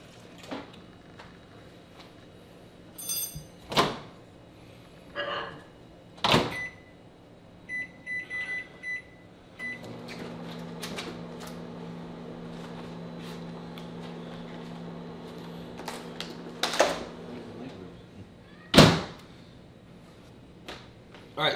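A microwave oven runs with a steady low hum while heating a peanut butter and coconut cream mixture, with clicks and knocks of handling before the run and a few sharp clunks near the end.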